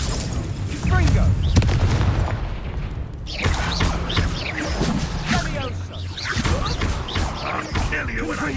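Confringo fire spell blasting in Hogwarts Legacy combat: a loud booming burst early on, followed by a dense, busy mix of game action sounds and effects.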